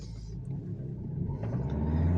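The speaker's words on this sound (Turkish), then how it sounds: "Şimdi araba spor modda yani çok çabuk devirleniyor." A 2005-2012 Dacia Logan on a road test in sport mode, its engine rumbling low and steady inside the cabin, the drone rising slightly toward the end, with no talk over it.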